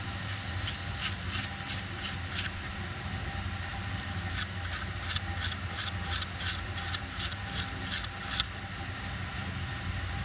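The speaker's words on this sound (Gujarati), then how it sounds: "બે સાઈડ ઘસી નાખવાનું પાર્ટને" Repeated rasping strokes as a small part from a Hyundai Grand i10 power window switch is rubbed down on both sides during servicing, two quick bursts of even, rhythmic scrubbing over a steady low hum, with no talking.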